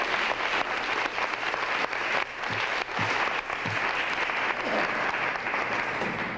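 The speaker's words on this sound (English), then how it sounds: "Let's give him a round of applause." An audience at a 1991 Knoxville Black History community gathering claps in sustained, dense applause, loud and even throughout, with a few faint voices mixed in.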